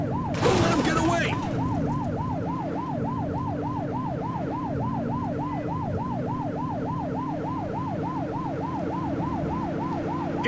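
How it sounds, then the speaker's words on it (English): Police car siren in the video game The Precinct, a continuous wailing rise-and-fall cycling steadily and loudly over a low engine drone, with a brief burst of noise at the start. "Remember to turn your siren on."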